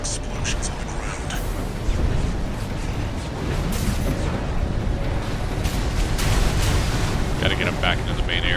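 Explosions rumble across the ground in Armored Core 6, a dense, continuous roar of blasts and low booms with brighter crackles near the end, under game speech.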